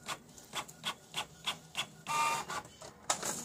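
A Canon G3160 inkjet printer prints a page: a regular train of short mechanical clicks and whirs from the print head moving back and forth, then a longer feed whir, close and fairly quiet, with no talking.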